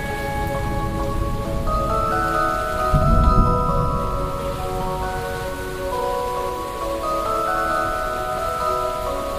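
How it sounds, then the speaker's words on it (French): Steady rain patters over sustained musical tones, with a brief low rumble swelling near the middle before the soft hiss continues. "Les combats s'arrêtèrent, laissant place au calme d'une pluie."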